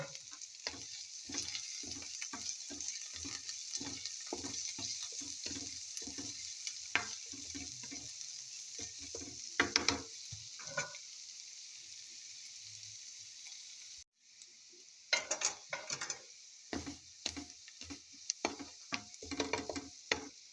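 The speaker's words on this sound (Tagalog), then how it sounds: "Let's saute now onions." Onions and then garlic sauté in a pan for eggplant steak, crackling in bursts of quick sizzling ticks and spatula stirs, with a brief lull in the middle before the frying picks back up, close and fairly quiet.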